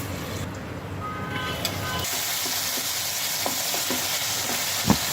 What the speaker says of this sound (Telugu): తర్వాత టమాటా ముక్కలు వేసి కొంచెం మగ్గనివ్వాలి.